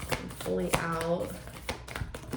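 Tarot cards shuffled close by, a few papery flicks and taps under someone talking, with one longer voiced sound in the middle.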